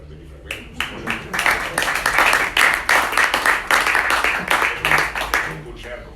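Audience applause at a book presentation for a novel, a dense wash of many hands clapping, steady and fairly loud for several seconds, with some voices mixed in.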